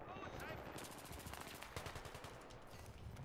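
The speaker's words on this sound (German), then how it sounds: "Ich vergesse bei der Waffe immer den Burst-Modus auszumachen" Burst-mode rifle fire in the multiplayer shooter Battlefield 3, rapid clusters of gunshots crackling through a dense, busy game soundscape at low level.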